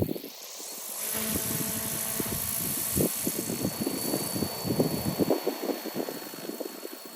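A Goosky RS4 RC helicopter on its maiden flight spins up with a steady high motor whine and rotor buzz, joined by rising choppy rotor pulses that grow stronger through the middle before settling back to the constant hum.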